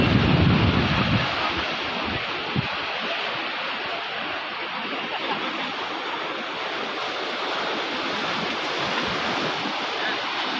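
Sea waves and wind along the coast give a constant broad rushing roar, with a heavier gust of wind buffeting the microphone at the start and no talk.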